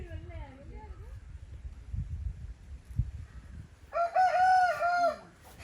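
A rooster at a nearby house crows once, loud and close, near the end, following a stretch of low background rumble and a faint voice.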